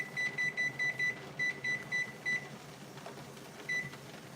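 A kitchen timer is set for ten minutes during pressure canning of deer meat, chirping in a quick run of short, sharp beeps, one for each button press, then a single beep after a pause, close and clear over quiet room noise.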